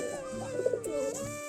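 A domestic loft pigeon gives a short, close, rolling coo, a couple of throaty pulses with no voices present.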